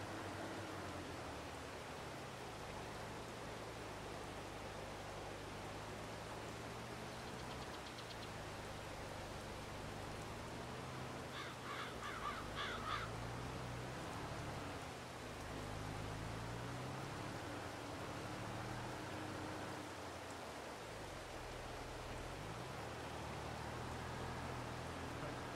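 Steady rain hisses in the video game Farming Simulator 22, a soft, even wash of noise over a low engine-like hum, with a few faint clicks partway through and no talking.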